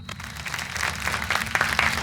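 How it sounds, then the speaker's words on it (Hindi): Applause at a staged magic show in a dramatized Indian crime drama, a dense crowd clapping that holds steady and swells slightly over two seconds, with a low hum underneath. "तालियां"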